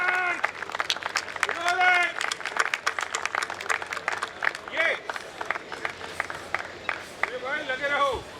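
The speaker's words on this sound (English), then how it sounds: "Let's give a big round of applause, friends." Guests applaud at a book launch evening at the Willingdon Club in Mumbai, with scattered clapping mixed with voices and cheers from the crowd rising and falling throughout.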